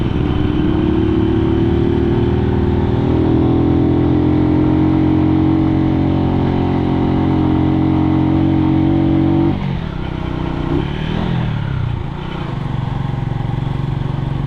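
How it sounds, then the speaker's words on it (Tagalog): A motorcycle engine labors steadily at high revs climbing a mountain road, then drops and shifts partway through, continuing close and loud with no talking. "Parang pangit na ng tunog ng motor ma."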